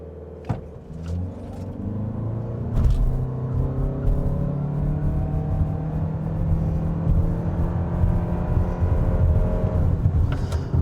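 A 2026 Toyota RAV4 Limited AWD hybrid SUV in sport mode launches hard off a brake-torque start, its engine rumbling and whirring as it rises steadily in pitch, loud and close throughout.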